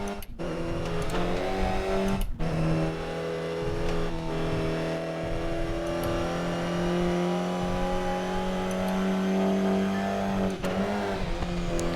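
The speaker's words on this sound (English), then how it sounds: "Nice Doppler effect there." Race car engine in the Toca Race Driver 3 PC game sweeping past with a strong Doppler pitch drop, loud sustained harmonic engine drone shifting tone as it passes, no talking.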